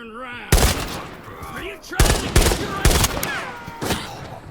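Gunfire in the first-person shooter Arena Breakout Infinite: loud bursts of shots crack in clusters over steady game ambience, with a voice talking faintly at the start.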